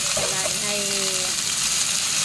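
Steady hiss of a pan frying while pasta is cooked, broad and constant at moderate loudness, with a person talking over it.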